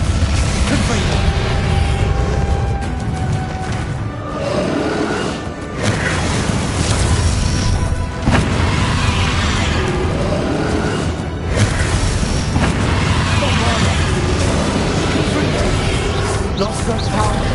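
Spell explosions from the video game Hogwarts Legacy, loud crashing booms and whooshes in dense, continuous combat, with speech mixed through the din.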